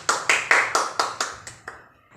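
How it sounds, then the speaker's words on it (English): A classroom of students claps together in about eight sharp, evenly spaced beats that fade toward the end, close by and without talking. "So shall we give them a round of applause?"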